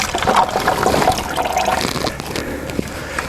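A bucket of laundry water mixed with lye and ash is poured out on the ground at a woodland camp, a steady splashing gush that fades to a trickle as it runs empty.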